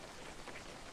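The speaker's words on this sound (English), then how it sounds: "Oh my gosh, it's raining." Rain in the video game Webfishing makes a faint, steady hiss of falling drops, even and continuous, with no voices over it.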